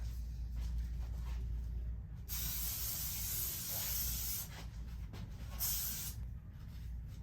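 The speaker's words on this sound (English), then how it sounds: "I'm going to spray a little Matrix Vavoom Triple Freeze." Matrix Vavoom Triple Freeze hairspray hisses from an aerosol can in several sharp, close bursts of varying length, with short gaps between them.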